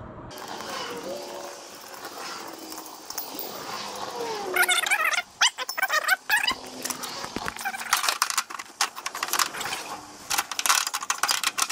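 Nuts or bolts come off a zero-turn mower blade spindle with a ratchet, giving close mechanical clicking and metallic rattles in bursts over a steady background hum.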